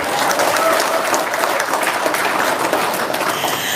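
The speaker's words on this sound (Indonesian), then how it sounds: "Tepuk tangan dulu dong." A crowd claps hands in steady, dense applause that holds at an even, fairly loud level for several seconds without pause.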